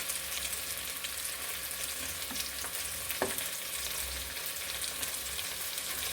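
Tomato, mango and green chillies fry in a pan for a Palakkad-style Kerala fish curry, giving a steady, soft sizzle with a brief stirring clack partway through and no talk.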